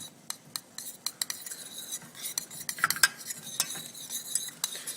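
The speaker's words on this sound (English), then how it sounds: "I want to get a spoon so I can mix it" A spoon stirs butter melting in a pot set over boiling water, with quick irregular metallic clinks and scrapes against the pot over a soft bubbling, fairly faint and close.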